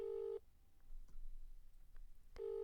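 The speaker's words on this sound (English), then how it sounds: "The phone rings once, twice, 3 times." Inside a video game, a phone handset plays a ringback tone: a steady electronic tone, a pause of about two seconds, then the same tone again, with a low hum underneath.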